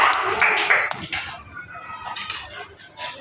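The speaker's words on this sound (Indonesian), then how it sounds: "Boleh kelompok 3 tepuk tangan dulu kelompok 3" A group of students in a classroom clapping together, a brief burst of hand claps near the start that quickly fades into chatter and voices.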